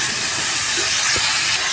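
Tomatoes, green chillies and garlic frying in a pan for masala gobi, giving a loud, steady, close hiss that holds without a break.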